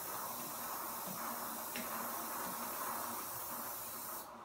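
Lubricant sprays onto a motorcycle chain in a steady, close hiss that lasts a few seconds and cuts off near the end, with no voices.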